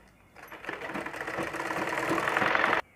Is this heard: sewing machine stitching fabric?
yes